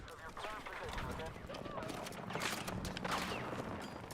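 Gunfire during a Battlefield 6 match, rapid bursts of shots and clattering fire mixed into a busy battle soundscape, moderately distant and faint, with a person talking over it.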